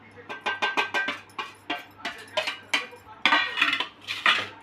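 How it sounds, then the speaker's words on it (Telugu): Spices, mustard powder, chili powder, salt, cumin powder, fenugreek and ginger-garlic paste being stirred together in a bowl for Telugu dosakaya pachadi, with a series of close, rhythmic clinks and scrapes of a spoon against the bowl. "అన్నీ బాగా కలుపుకోవాలి"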